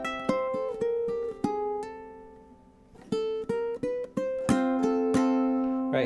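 A ukulele plays the intro and opening melody of Freight Train: plucked notes and strummed chords in an easy, lilting rhythm, close and clear with ringing decays and no voices.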